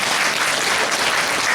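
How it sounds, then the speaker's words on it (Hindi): Teachers at a school program clap together, a brief, loud, dense burst of many hands filling the room. "तालियां तो बजाओ।"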